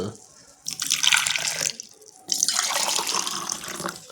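Hot water pours in two separate streams, a splashing, gurgling rush close by that starts, stops briefly, then runs again more steadily, with no talking.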